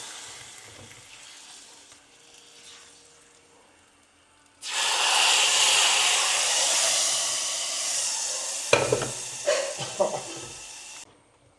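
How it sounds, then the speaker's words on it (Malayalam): Dry fish curry in a pan with chillies stirred in, made as a traditional Kerala village dish with plantain: a quiet stretch breaks into a loud, steady sizzle, then scraping stirs near the end before the sound cuts off. "ഇട്ടൊന്ന് ഇളക്കാം."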